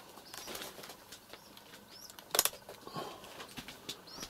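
Feral rock pigeons flap their wings indoors in a room, making a few soft bursts of fluttering with one sharp, close clap of wings midway and faint coos between, fairly quiet overall.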